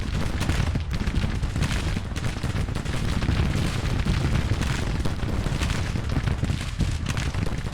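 Massed volleys of troops firing in a GTCW battle, a dense, continuous crackle of rifle and artillery fire rolling on without pause, loud and close throughout.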